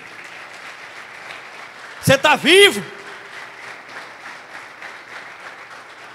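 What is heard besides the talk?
church congregation applauding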